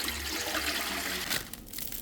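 Water pours steadily from a jug for about a second and a half, a close, rushing splash that cuts off abruptly, followed by quieter handling noise, while preparing a tender coconut China grass pudding.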